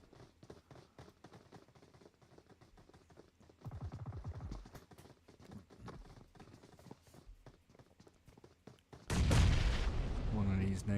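Rapid gunfire cracks and grenade blasts from a PUBG Mobile scrim match in Battlegrounds UK. Clusters of shots come at irregular intervals, and a loud, sustained explosion burst arrives near the end, with a caster's voice faintly underneath.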